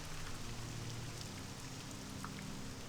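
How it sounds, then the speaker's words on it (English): Rain falls steadily in the video game Morrowind, a dense, even hiss of drops with a faint low hum underneath, constant and moderately quiet, no voices. "Still raining"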